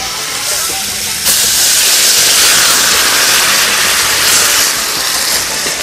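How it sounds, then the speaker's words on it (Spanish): Hot broth with milk and peanut poured into a simmering pot of fish stew, a loud steady hiss and rush that swells after a second and holds throughout. "Agrego ya en este momento el delicioso caldo con leche y maní."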